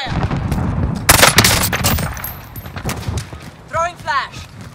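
Automatic and rapid gunfire crackles in Call of Duty: Warzone during a nuke event in Verdansk, loud bursts clustered near the middle, with voiced radio callouts over and around the shots.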